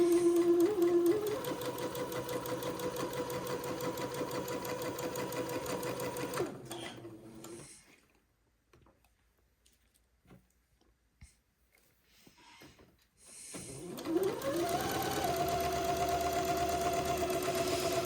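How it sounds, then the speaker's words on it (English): A sewing machine runs steadily as it sews the second pass of a French seam on a dress. The hum pauses for several seconds of near silence, then the machine starts up again. "so that I can come back and sew the second pass of the French seam"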